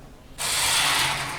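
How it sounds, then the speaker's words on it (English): A wrench ratchets as a bolt is tightened on an Amazon Basics 3-tier rolling utility cart during assembly. After a brief quiet start, a steady, close, dense clicking ratchet fills the rest of the clip, with no talking. "and then you can crank it tighter with the wrench"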